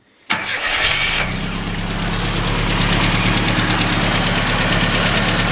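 An Austin Mini engine, freshly restored, cranks and catches after a short silence, then settles into a steady, loud idle close by with an even, throbbing rumble and no talking.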